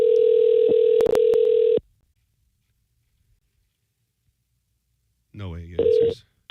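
A steady telephone dial tone sounds loudly for under two seconds while placing a call, broken by a couple of clicks, then cuts to silence before a voice is heard.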